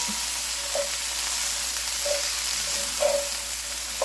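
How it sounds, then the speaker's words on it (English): Cabbage fries in butter and olive oil while being stirred, giving a steady close sizzle broken by a few soft scraping strokes of the spoon; no one speaks. "So usually I add about half of the cabbage, then I mix it."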